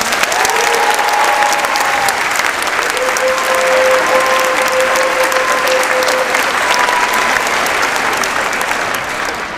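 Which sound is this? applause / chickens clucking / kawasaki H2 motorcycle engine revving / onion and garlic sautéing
applause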